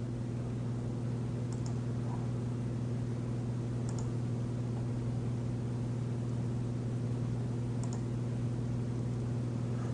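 A computer mouse gives three sparse, faint clicks while Spybot Search and Destroy runs on a PC, heard over a steady electrical hum with no talking.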